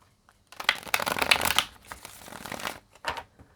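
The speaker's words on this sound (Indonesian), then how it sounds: "Aku shuffle kartunya sebentar ya." Angel message cards are shuffled by hand, a close, crisp flurry of riffling and slapping card sounds lasting a few seconds, fairly quiet and alone.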